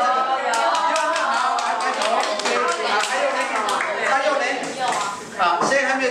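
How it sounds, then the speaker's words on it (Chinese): A group of children clap their hands together at a Sunday school children's Mass in a church, a dense, steady round of applause with voices talking over it. "好，来拍手"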